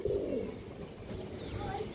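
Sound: pigeon cooing

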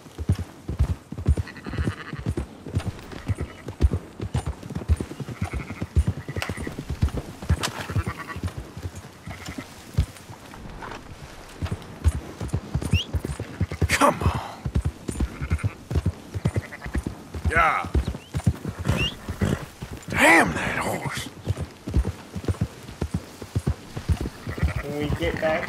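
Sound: horse hooves clip-clopping in a video game

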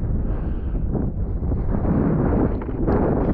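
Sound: wind blowing on a fell, wind noise on microphone

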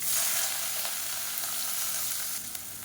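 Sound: onion frying in oil with mustard seeds and chillies

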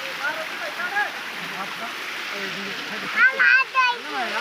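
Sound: Savtada waterfall splashing water

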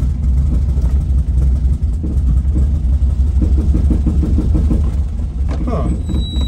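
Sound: 1967 VW Type 3 Squareback engine running rough

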